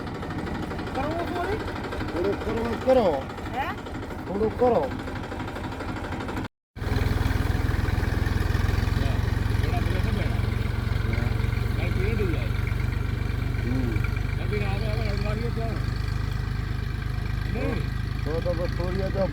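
A tractor engine idles on a cumin farm, a steady low rumble that sets in after a brief break and holds throughout, with people talking over it.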